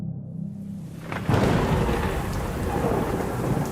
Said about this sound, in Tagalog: habang nagsasalimbayan ng malalakas na kulog at kidlat